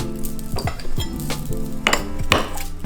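A spoon clinks and scrapes against a bowl in a few slow, gentle strokes, mixing a marinade of soy sauce, mirin, rice vinegar, maple syrup and garlic, close and clear with no one talking.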